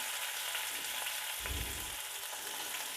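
Onions sautéing in a pan for rava kichadi, a broadband sizzle and fry that runs steadily throughout, with a brief burst of stirring or scraping near the middle and no talking.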